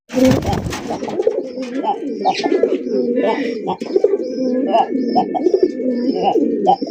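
Colored Golla pigeons, one red male and one black female, coo in a steady, rhythmic series of soft low calls, close and fairly loud, with someone talking over them throughout.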